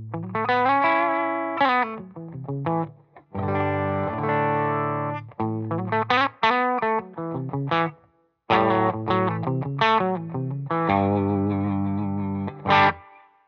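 Electric guitar played through a Benson Amps Vincent tube amp with a Tallbird reverb unit, chords and single notes ringing out with a warm, slightly driven tone and lingering tails.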